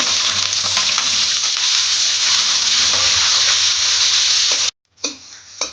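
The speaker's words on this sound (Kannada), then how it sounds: "ಎರಡು ಈರುಳ್ಳಿಯನ್ನು ಕಟ್ ಮಾಡಿ ಇಟ್ಕೊಂಡಿದ್ದೀನಿ ಅದನ್ನು ಕೂಡ ಸೇರಿಸ್ಕೊಂಡು ನೀಟಾಗಿ ಫ್ರೈ ಮಾಡ್ಕೊಳ್ಳೋಣ" Chopped onions sizzle steadily in a hot pan for a chicken fry, a loud continuous frying hiss with occasional stirring, cutting off briefly near the end before resuming.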